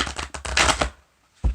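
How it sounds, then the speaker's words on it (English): A deck of tarot cards is shuffled close by in quick riffling bursts, a rapid papery flutter that pauses and then gives one more short snap, with no talking. "I am going to shuffle the tarot so we can get into it right away"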